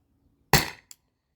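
A CO2 air launcher powered by an Umarex 12-gram cartridge fires a single sharp shot close by, a loud crack that decays quickly and is followed by a faint short click.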